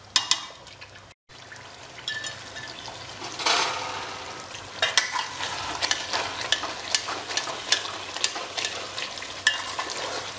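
Mutton stirred and fried in a curd masala, a steady sizzle broken by scraping stirs and brief clatters of the spoon against the pan, close and with no talking.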